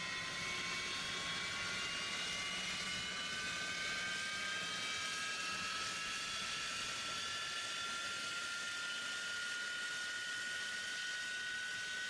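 Steady, loud jet engine roar from the Alaska Association of Realtors jet, with rising whine tones sweeping upward over a broad rushing noise, continuous and close throughout with no talking.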